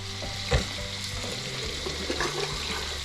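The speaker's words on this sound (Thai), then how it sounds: "ทอดแหนม เดี๋ยวทอดแหนม" Naem, Thai fermented pork sausage, frying in a pan with a steady close sizzle and crackle, plus a brief clunk of a utensil or pan near the start.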